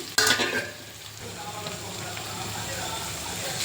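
Tomatoes hit a hot pan of fried ginger paste with a sudden loud sizzle that settles into a steady, softer frying hiss with faint stirring.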